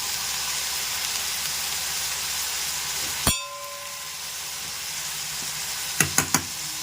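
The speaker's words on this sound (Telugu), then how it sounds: "ఇవ్వండి పచ్చెనపప్పు కూడా వేసేస్తాను." Green gram dal goes into sizzling brinjal in a pan: a steady close sizzle, one sharp clatter as it is added, then quieter frying and a few quick metallic clinks at the end.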